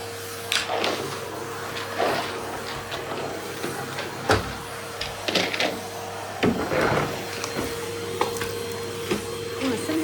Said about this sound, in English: Just keep doing the vacuuming of the hard floors.